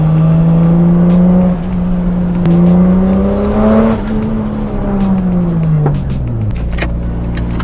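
A single turbo 550hp Toyota Supra drives along a back road, its engine note close and loud, rising through revs, dropping briefly on a shift and climbing again before easing off, with no talking.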